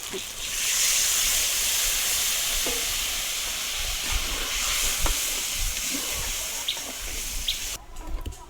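Paneer masala goes into a hot kadai and sizzles, a steady hiss with scattered light crackles and spatters that fades toward the end.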